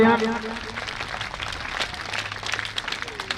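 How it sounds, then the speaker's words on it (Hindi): Applause rings out at a village school's annual function and donor-honouring ceremony, a short burst of brisk clapping from an assembled audience that follows a voice over a sound system. "इनके लिए भी जोरदार तालियां"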